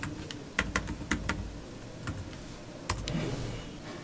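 Keys tapped on a computer keyboard in a few short bursts of sharp clicks, close and crisp against a quiet room hum.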